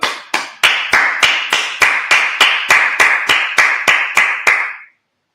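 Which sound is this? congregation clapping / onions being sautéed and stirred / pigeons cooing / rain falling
congregation clapping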